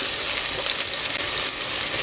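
Onions sautéing in a pan over high heat, a steady, close, even sizzle with no talking.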